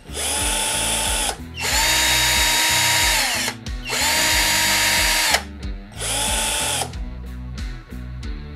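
A Xenon CDD505 cordless battery drill spins up in loud close bursts, a high whining motor that winds up, holds for a second or two, then cuts out, repeated several times and ending in short taps.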